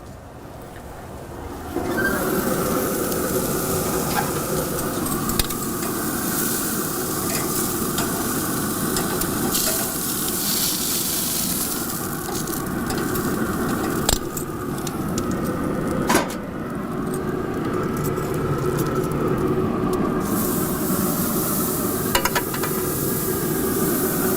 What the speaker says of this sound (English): I'm gonna flip our mushrooms and get those out of the way, open up our sear plate, and we're gonna open flame grill these terrace majors